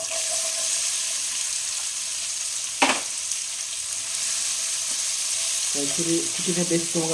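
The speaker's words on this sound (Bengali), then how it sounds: "এরপরে হিংটা দিচ্ছি এই পেঁয়াজ কচিটা" Asafoetida and onion fry in a pan with a steady close sizzle, one sharp clack partway through, and faint tonal clinks near the end, with no talking.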